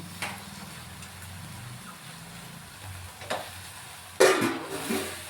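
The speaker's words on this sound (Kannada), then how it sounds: "ಈಗ ಇದೆಲ್ಲನೂ ಚೆನ್ನಾಗಿ ಸ್ವಲ್ಪ ಫ್ರೈ ಮಾಡ್ಕೊಂಬಿಡೋಣ" Mint and coriander leaves frying in a pan give a soft, steady sizzle with occasional stirring scrapes and a louder clatter near the end, close and fairly quiet.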